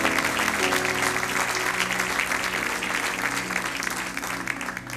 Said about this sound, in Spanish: Un aplauso para todos estos jóvenes y para los futuros.